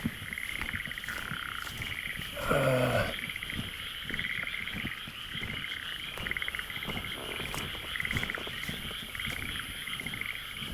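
Many frogs croaking at night in Kamakura Central Park, Japan: a dense, continuous chorus of rhythmic pulsing calls fills the scene, steady and moderately distant, with one brief louder croak standing out near the start.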